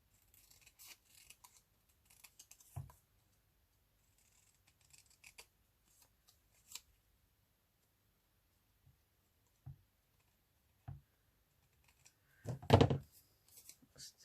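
Scissors snipping paper for a collage, a few faint close clicks and short cuts scattered through quiet, ending in one louder, longer cut near the end.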